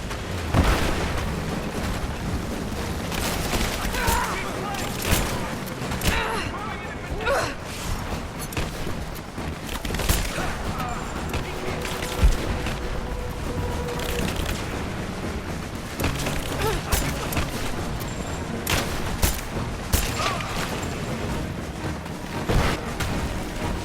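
Gunfire in the Rise of the Tomb Raider video game: dense, continuous bursts of shots and impacts, loud and close, rattling through the whole stretch with layered booms and cracks.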